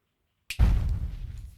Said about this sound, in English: I search for explosion